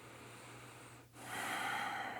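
A person breathes during a yoga stretch: a slow, soft exhale fades to a brief pause before a fuller, airy inhale swells close to the ear.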